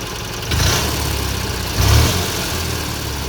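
A 1988 Argo Magnum 8x8 amphibious vehicle's engine idling steadily nearby, with two brief swells in its low rumble, no talk.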